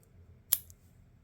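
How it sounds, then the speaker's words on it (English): A single quick metallic snip or click as small scissors are opened, close and crisp, in an otherwise quiet room. "I'll get them out here real quick. Yep, there's some scissors."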